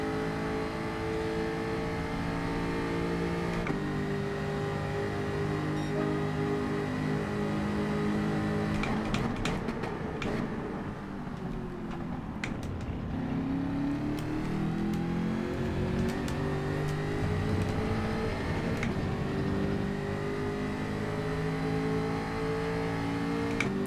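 A McLaren Group 4 race car in Gran Turismo 7 at Interlagos drones loudly and continuously, its engine pitch sweeping down into corners and climbing again as it accelerates out, with no talk over it.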